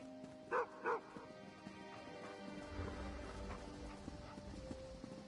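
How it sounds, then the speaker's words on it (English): A small dog in the Elder Scrolls Online game gives two quick, sharp barks close together near the start, followed by quiet in-game ambience and soft background sounds. "What a cute little If dog."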